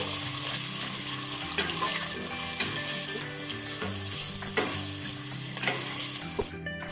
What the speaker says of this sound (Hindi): प्याज को हमने लाइट गोल्डन जो है वो ब्राउन करना है इसको।